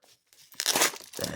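A Pokemon mail package envelope being cut open, with short crinkling and tearing bursts of paper and tape, close and fairly quiet, after a brief near-silent start.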